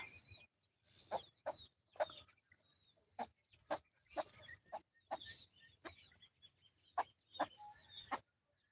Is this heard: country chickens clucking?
yes